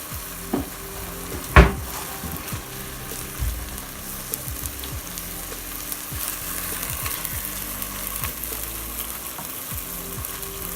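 Chicken for a Thai green curry sizzles steadily in a hot pan as fish sauce goes in, with a brief sharp burst of frying early on and light stirring clinks throughout; no talking.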